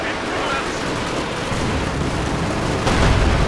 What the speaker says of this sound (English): Conscripts advancing, getting shredded by machine gun fire from numerous sources.